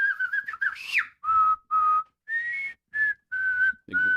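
Someone whistles a melody in clear, sustained notes with short gaps, after a quick run of rising and falling trills; the notes sound close by.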